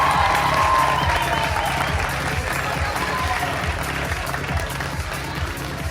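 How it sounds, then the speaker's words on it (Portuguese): An audience applauds steadily at a public ceremony, a dense, continuous clapping that fades slightly toward the end. "Peço os aplausos para o Dr. Lucas Escaramuça."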